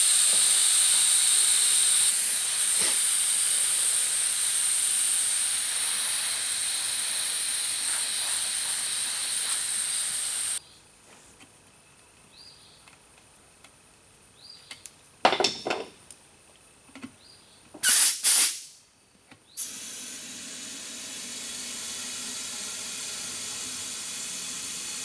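Air hissing steadily and loudly from a wagon tire inner tube for about ten seconds, then stopping, followed by scattered knocks and clatter of handling and a brief burst of hiss again.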